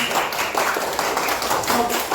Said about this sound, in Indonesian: Iya, baik, terima kasih buat Ananda Denis, tepuk tangan.